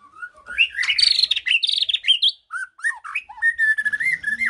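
A white-rumped shama sings a varied, rapid string of clear whistles and chirps, loud and close, with brief pauses between phrases.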